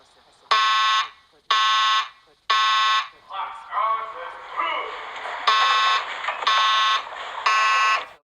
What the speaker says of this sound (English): I just heard the fire alarm going on.